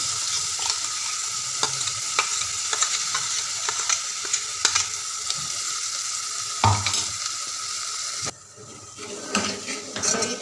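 Masala paste for a fish curry frying and sizzling in a pan, with steady close stirring and scraping plus occasional clinks of a utensil against the pot, continuous and fairly loud with no talking.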